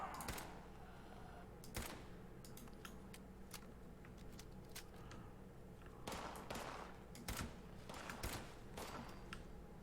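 Gunfire from zombie enemies in the video game Fallout 76: sharp shots burst out in scattered clusters over a steady low game-ambience hum, at a soft overall level.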